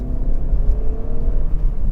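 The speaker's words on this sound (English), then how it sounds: "when you do rev the engine up, you know you're in something that's, you know, well designed. So put my foot down, you can hear it." A Honda CR-V 2.0 i-VTEC EX 4WD five-door revs under acceleration, heard from inside as a steady, loud, rumbling engine drone with a faint whirring edge and no talk.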